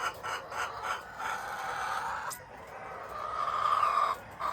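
Backyard chickens cluck in short repeated bursts while a rooster crows in long drawn-out calls, moderately near and fairly quiet, with no talking.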